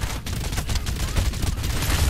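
Rapid gunfire from the shooter game Farlight 84, a weapon sprayed while aiming down sights: a continuous fusillade of quick, punchy shots firing without pause, loud and close throughout.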